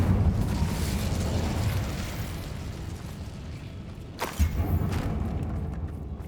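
A fire spell, Incendio, is cast in the Hogwarts Legacy video game, giving a roaring burst of flame with a sharp whoosh near the end, set over a steady rumbling game background.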